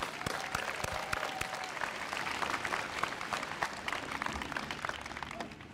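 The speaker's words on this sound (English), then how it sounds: "If we can give a round of applause for those folks." Steady, full applause from a large crowd at a school convocation, honouring the support staff and coaches, dense clapping sustained throughout without pause.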